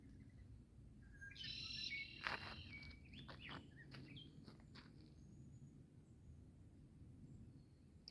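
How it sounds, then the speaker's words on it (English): Bird calling outdoors at dawn, a series of sharp, electronic-beeper-like chirps and tones near the middle, faint and fairly distant over a low wash of insect background. "It's a different sound on that bird. It almost sounds like an electronic beeper."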